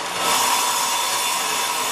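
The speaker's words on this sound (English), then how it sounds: "Men do the hard job of sawing and cutting the wooden boards sourced from the jungles around Yogyakarta." Wooden boards from the jungles around Yogyakarta are sawn by hand in an Indonesian craft workshop, making a loud, continuous rasping close by with no talking.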